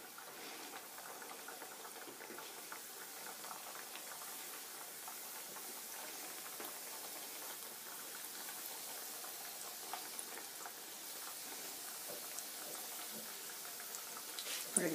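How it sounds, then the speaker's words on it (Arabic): Small pastries (sbiaat laaroussa) frying in hot oil produce a faint, steady bubbling sizzle with fine crackles throughout, ending in a couple of louder knocks. "نبداو على بركة الله نحطوهم يتقليو"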